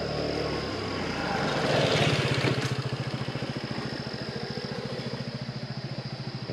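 A scooter engine putters nearby on a Taiwan roadside at night, building up and then settling into a steady, rapidly pulsing idle, while a high, continuous insect drone carries on behind it.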